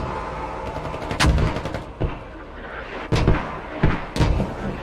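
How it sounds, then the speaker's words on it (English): Mortar fire in a war video game on a hilltop battlefield, several loud booming impacts and blasts arriving irregularly, each close and punchy with a short rumbling tail. "But them mortars causing havoc again for the US."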